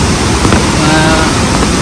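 Meenvallam waterfall in the rainy season, a steady, dense rush of falling water that fills the whole moment, close and loud, without any break or voice.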